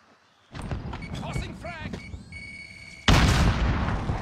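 A frag grenade explodes in Call of Duty: Warzone, a loud sudden broadband boom near the end that follows game sounds and a voice speaking.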